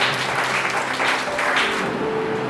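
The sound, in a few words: congregation applauding to welcome a preacher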